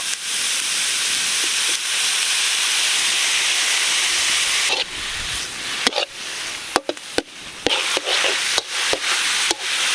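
Mutton fat frying in hot oil for lemon rice, giving a loud, continuous steamy hiss that later breaks into a run of sharp, irregular crackles and knocks, close by and without talk.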